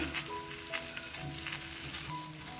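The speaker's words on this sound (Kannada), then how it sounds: "ಒಂದು ಬಾಣಲಿ ತಗೊಂಡು ನಾವು ಬೀಜ ಎಲ್ಲ ತಕ್ಕೊಂಬಂದ್ಮೇಲೆ ಆ ಆಗ್ಲಕಾಯಿನ ಹಾಕೊಳ್ತಾ ಇದ್ದೀವಿ" Bitter gourd pieces go into a hot pan and sizzle in a steady, close hiss, with a few soft clatters as the pieces settle.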